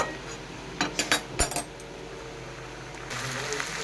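Mutton and potatoes are stirred in a pan, with a quick run of five metallic scrapes and clinks from the spoon early on, then a low, steady sizzle that grows slightly louder toward the end.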